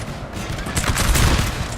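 Musket volleys crackle in a Napoleon Total War multiplayer battle, a dense rolling fusillade of overlapping gunfire that swells loudly mid-clip, with no talk over it.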